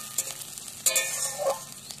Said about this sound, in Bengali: তেল গরম হয়ে গেছে, দিয়ে দিয়েছি পেঁয়াজ, পেঁয়াজটাকে ভালো করে ভেজে নেব।